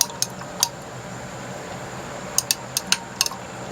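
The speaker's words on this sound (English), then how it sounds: "I'm going to stir it for just a second." Gold refining solution is stirred in a glass container, giving a faint background wash broken by about a dozen sharp, light glassy clinks. A couple of early taps are followed by a cluster of quick clinks near the end.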